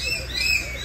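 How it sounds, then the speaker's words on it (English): Birds chirp in the aviary at Cebu Safari in the Philippines, giving short, thin high calls over a steady background wash, with no talk. "I don't know what's the name of that bird"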